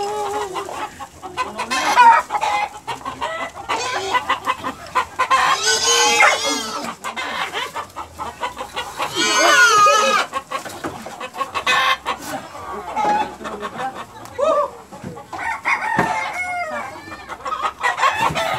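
Chickens cluck busily around a backyard farm pen while a rooster crows loudly several times, long drawn-out calls rising over the constant chatter of hens, with occasional faint voices.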